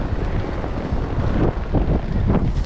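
Strong wind buffets the microphone continuously, a loud rumbling roar with gusts rising and falling.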